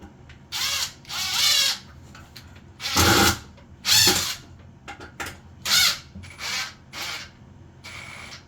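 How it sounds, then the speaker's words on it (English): A power drill drives screws into a closet shelf in a series of loud, close whirring bursts, each a second or so long, separated by short pauses, with no talking. "Now I'm gonna put 3 screws, as always."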